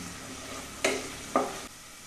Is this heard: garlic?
yes